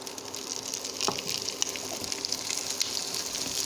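Drained rice and lentils tipped into a hot pan with tempering spices for khichuri, a dense rushing hiss and rattle of grains landing and sizzling, close and fairly loud with no talking.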